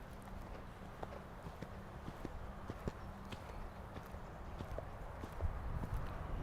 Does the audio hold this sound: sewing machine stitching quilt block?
no